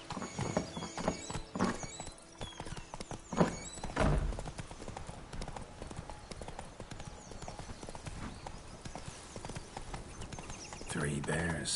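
Roach, the horse in The Witcher 3, trots with a rhythmic close clip-clop of hooves, a brief whinny and game voices around it.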